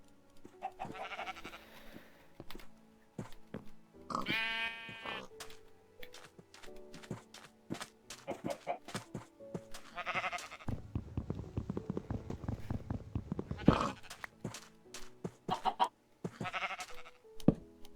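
Bleating farm-animal calls from a Danish let's-play video game, where the player has only one chicken, repeat in short bursts over steady keyboard typing, with the calls loud and close.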